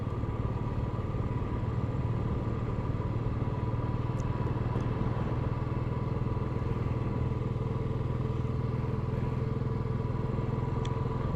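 Motorcycle engine held at full throttle while climbing a slope on the road to Khardung La, a steady loud drone with clattering mechanical noise running unbroken and close throughout.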